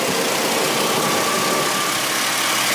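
A 1987 Chrysler Conquest TSI with a turbocharged four-cylinder engine idles steadily and loudly up close, a continuous even drone with no talk over it.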